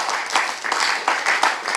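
An event audience applauds the title sponsor at a Democracy Cup football presentation, a short burst of moderately distant clapping and cheering that carries on steadily throughout.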